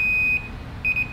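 A digital multimeter emits a continuity beep while testing an orange wire: a steady high electronic tone that stops briefly, then returns in a short broken burst, clear and close with no talking.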